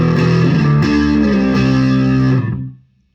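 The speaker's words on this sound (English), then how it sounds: "This guitar loves distortion." A Gibson 1958 Les Paul Standard Reissue electric guitar plays heavily distorted chords that ring out loud and sustained, shifting a few times before fading away into silence.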